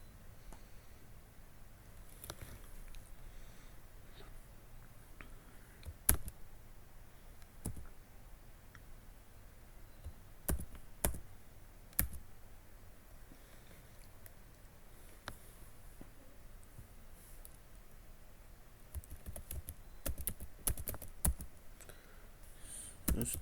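Someone types a command at a computer keyboard in a quiet room, with sparse, irregular key clicks and a few sharper taps scattered over low background hiss, close and soft.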